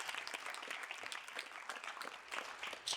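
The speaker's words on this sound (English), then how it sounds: "Please clap for her." An audience applauds at an affordable housing networking event, steady clapping from a crowd held at a moderate, even level for a few seconds with no talking.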